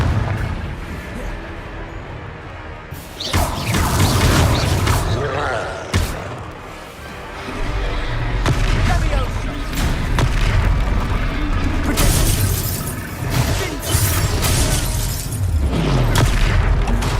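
Booming fiery blasts of the Confringo spell in Hogwarts Legacy during a battle, loud and dense, layered over continuous combat noise and music with several sharp impacts throughout.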